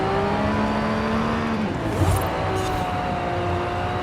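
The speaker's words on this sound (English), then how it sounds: "Listen to the low-pitched V8 roar of that engine, guys. McLaren rocks a V8 twin turbo engine." A McLaren 720 GTR with a twin-turbo V8 roars steadily in Forza Horizon 5, a loud continuous drone with shifting pitch and a brief revving swell midway, no talking over it.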